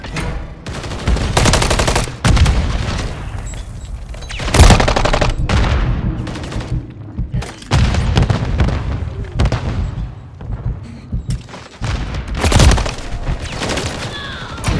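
Heavy gunfire in Call of Duty Modern Warfare 3 multiplayer, dense overlapping bursts and loud booming shots that come in repeated waves, close and powerful, with short gaps between the volleys.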